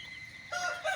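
Chickens of fancy breeds on a poultry farm, a rooster crowing loud and close in the second half over a softer background of clucking birds.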